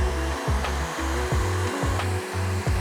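A heat gun blows hot air onto window tint film laid on a car windshield, giving a steady, close whooshing drone that pulses slightly in rhythm as the tool is waved across the glass.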